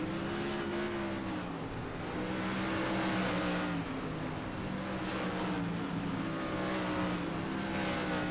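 USAC sprint car engines racing in iRacing at Lanier National Speedway: a steady, droning multi-engine roar with rising and falling pitch as the cars circle, constant in loudness and with no voices.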